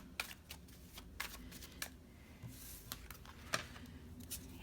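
Tarot cards are shuffled close by, making a faint, steady patter of papery riffles and light taps with occasional sharper flicks.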